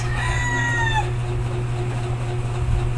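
A bulik gamecock stag about five months old crows once nearby, a clear drawn-out call that ends after about a second, over a steady background hum.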